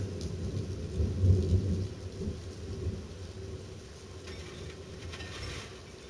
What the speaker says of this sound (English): there go that thunder